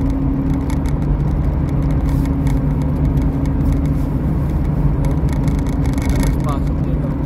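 A car moves along a wide freeway through traffic, giving a steady close rumble of engine and road noise that runs throughout, with people talking over it.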